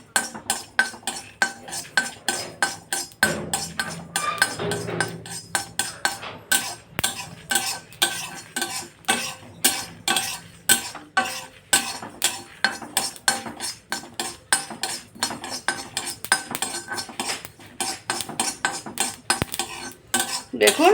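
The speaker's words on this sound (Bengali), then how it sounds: "দেখুন আমার মশলাটা চটর পটর করতে লেগে গেছে।" Dried red chillies, cumin and fennel seeds dry roasting in a hot pan, with rapid sharp crackling and scraping clinks of a stirring utensil repeating steadily and close by, with no voices.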